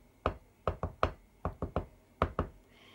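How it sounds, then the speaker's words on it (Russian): Knuckles rap a signal knock in a patterned rhythm: a single knock, then quick groups of two and three, a pause, and a final pair. The raps are sharp, close and fairly loud, with no talking over them. "можно я постучу? Стучи, конечно."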